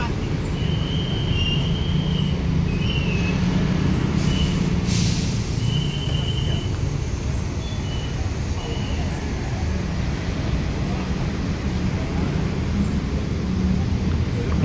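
A bus reversing at the Lembang terminal in Ciledug, with a continuous low engine rumble and short intermittent beeps in a busy, noisy station, and people talking in the background.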